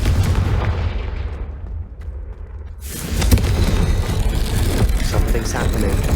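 Confringo blasting spell explosion in the Hogwarts Legacy video game, a loud booming blast that fades off and then gives way to a dense rumbling burst of fiery noise.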